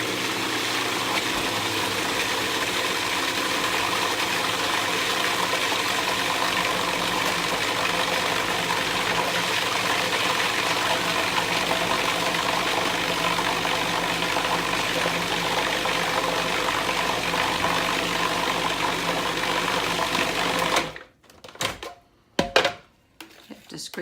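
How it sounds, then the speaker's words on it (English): A blender whirring through vegan spinach dip, a steady loud motor drone running for about twenty seconds before cutting off into a few knocks and scrapes, with a voice talking over it. "We'll stir in the spinach and we'll blend this up"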